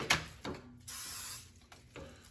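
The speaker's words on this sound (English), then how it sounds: "Spray some oil on this baby." A cooking oil spray nozzle hisses in short bursts over a steak, including one longer spray, close by, with small clicks and handling noises between.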